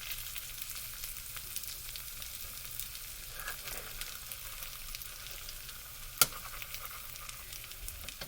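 Yellow squash frying in hot oil in a pan, a steady, soft sizzle running throughout with one sharp click partway, no voices.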